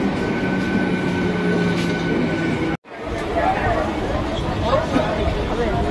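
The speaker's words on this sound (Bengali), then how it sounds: "আসছে এই আমাদের ট্রেন চলে এলো," Kharagpur local train arriving at a platform: a steady loud rumble of carriages with faint wheel squeal and crowd babble, briefly cut off midway before the rolling noise resumes.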